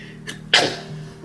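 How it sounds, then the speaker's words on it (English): A single person's sneeze, preceded by a short sharp intake of breath, bursts out loud and close before trailing off into quiet room tone. "I think I'm about to sneeze"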